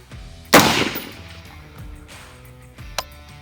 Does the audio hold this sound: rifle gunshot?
yes